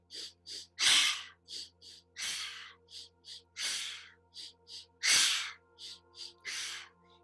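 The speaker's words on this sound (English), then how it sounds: "breathing in twice through the nose and exhaling glossally through the throat" Yogic breathing: a repeating cycle of two short, sharp sniffing inhales through the nose followed by a longer, rasping exhale through the throat, close and clear with no talk.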